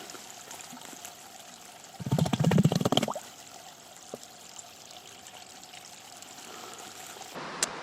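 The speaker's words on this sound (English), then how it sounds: "you can probably hear the waves crashing" Waves break on a beach on Achill Island, County Mayo, at night: a single loud rushing surge of water lasting about a second, set against a low steady hiss of surf.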